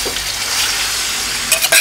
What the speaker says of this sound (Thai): พอเราก็ผัดนะฮะผัดจนรู้ว่าหมูสุกแล้วนะครับ